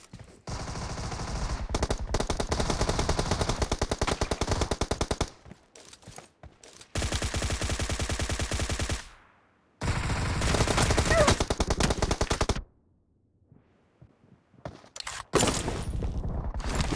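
Suppressed Beryl M762 rifle fire in the PUBG Mobile video game comes as long, rapid automatic bursts. Each runs for several seconds, with short gaps between bursts and a final burst at the end, loud and close.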